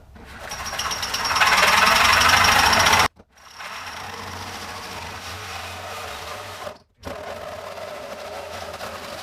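A loud, harsh buzzing saw rasps through Subaru car body metal in two long runs, each stopping abruptly, with a short pause between.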